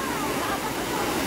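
Strong, steady rushing water thunders at a waterfall during a drowning rescue, a loud continuous roar that fills the scene with voices faintly mixed in.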